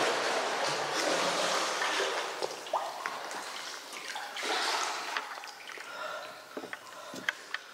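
Water splashes and trickles steadily inside a flooded cave, a broad continuous wash with scattered drips and sloshes, close and fairly loud with no talking.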